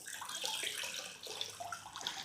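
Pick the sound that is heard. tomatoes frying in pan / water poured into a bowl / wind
water poured into a bowl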